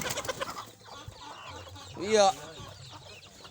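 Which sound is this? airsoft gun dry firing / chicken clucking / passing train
chicken clucking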